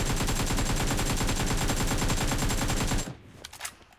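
An M249 light machine gun fires a sustained rapid burst in a shooter video game, loud and continuous for about three seconds before stopping abruptly, leaving faint scattered shell and ambient sounds.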